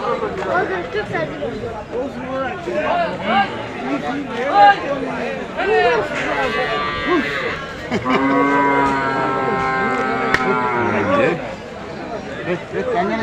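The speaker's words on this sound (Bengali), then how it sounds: "দর্শক এই যে দেখুন দেশাল জাতের 6টি ষাঁড় গরু" Deshal breed bulls at Gohorpur cattle market in Sylhet, one giving a long, loud, close moo amid constant talking and crowd chatter.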